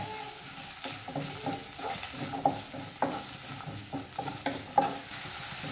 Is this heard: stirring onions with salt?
yes